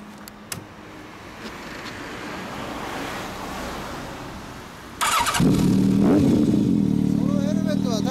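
A quiet outdoor hiss is suddenly joined by a loud Kawasaki ZRX1200 motorcycle with an aftermarket Over Racing/Maverick exhaust starting and revving, a raspy rumble that stays strong to the end.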